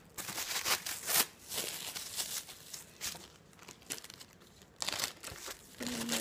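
Plastic wrap crinkles and crackles close up as breakfast sandwiches are wrapped for the freezer, in uneven bursts of rustling and tearing with brief quieter gaps.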